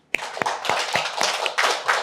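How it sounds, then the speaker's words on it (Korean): A small audience claps at a church service, a short burst of scattered, uneven hand claps that builds briefly and stays fairly close. "다들 박수."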